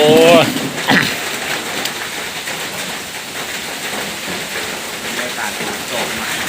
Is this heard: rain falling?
yes